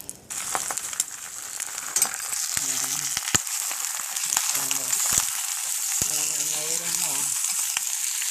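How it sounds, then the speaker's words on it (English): Eggs sizzle steadily in a hot pan for a half fry, a bright continuous crackle running throughout, with a few brief hums and murmurs in the background and occasional clicks of a utensil. "Maybe I like to fold over my eggs when I make them, but this time there won't be a good chance of doing that, so it's gonna be a half fry."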